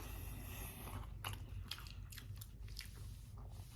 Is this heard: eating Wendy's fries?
yes